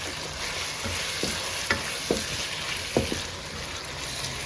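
Tomatoes cook in a pan with a constant bright sizzle, cut by a few sharp scrapes and taps from stirring, close by with no talking.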